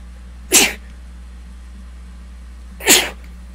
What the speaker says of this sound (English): but I need to sneeze.